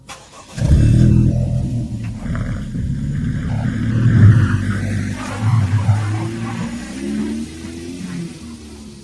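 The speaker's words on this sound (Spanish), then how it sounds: "Arranqué el coche y me alejé de allí." A car engine starts abruptly with a loud, low rumble and keeps running steadily as the car pulls away, then gradually quiets.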